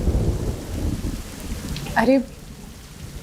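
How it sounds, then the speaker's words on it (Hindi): Heavy rain falls steadily with a low rumble of thunder, loud and continuous through the scene, as a voice briefly exclaims over it. "बारिश तो थमने का नाम ही नहीं ले रही है।"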